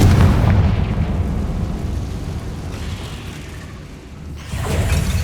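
A Confringo fire spell blasting in Hogwarts Legacy on PS5, a loud, sustained booming explosion with a deep rumble that fades slightly before a second burst near the end, with no talk.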